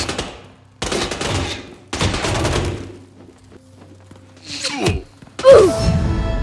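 Bursts of gunfire in the Hitman 3 video game, with three loud volleys close together in the first half, then quieter mechanical thuds and a louder crack near the end.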